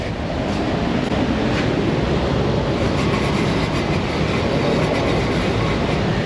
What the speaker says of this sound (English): Okay, this is the one with the bad bearing.